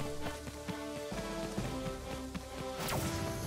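Steady rain pattering in Crash Bandicoot: Warped (N. Sane Trilogy), a dense even hiss with game music notes running underneath and a brighter swell near the end.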